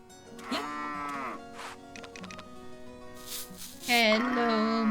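Cow mooing in the farming video game Story of Seasons: Grand Bazaar, a few drawn-out moos over a game music bed, fairly loud and close.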